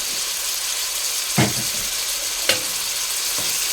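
Salted chopped onions and green chillies frying in a pan, giving a steady broad sizzle with two brief scraping stirs, close and fairly loud, no talking.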